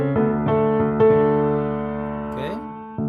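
Piano plays the ending of a song in time, finishing on a D: a few firm chords struck in quick succession, then a final chord left to ring and fade, with a brief run near the end and no talking.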